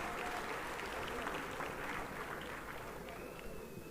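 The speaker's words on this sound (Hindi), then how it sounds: "जोरदार तालियां एक बार इनके लिए भी बजाई जानी चाहिए" Applause from a seated audience at a Hindi-language political gathering, a steady, moderately loud wash of clapping lasting a few seconds with no voices over it.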